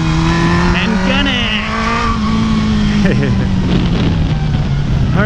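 A motorcycle engine drones loud and close, rising as it accelerates hard through a leaned-over turn during knee-drag practice, with wind noise and a rider speaking over it.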